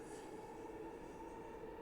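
A metro train runs in a video game, a continuous low, even rumble with a faint steady whine, quiet and unbroken throughout, with no talking.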